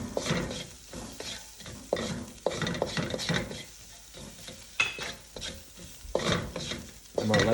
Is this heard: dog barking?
no